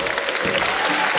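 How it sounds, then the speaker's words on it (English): A crowd of parents and spectators claps steadily at a school annual sports meet, a dense, continuous patter of applause with a faint voice mixed in. "Louder, louder, louder clap."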